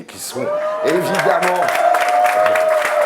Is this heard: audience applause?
yes